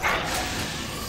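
A dog in a video game gives a single short bark or yip, near and brief, over a steady background hum.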